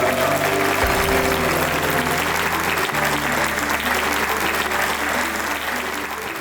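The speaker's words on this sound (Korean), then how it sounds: "뜨거운 사랑과 환영의 박수와 함께 맞이하겠습니다" A church congregation in America gives loud, sustained welcoming applause to a visiting guest from Korea, dense clapping filling the room steadily from start to finish.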